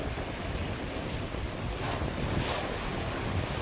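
Strong wind gusts across the microphone at the lakeshore of Songjiho in Goseong, with a constant loud broadband roar, wave wash and no voices.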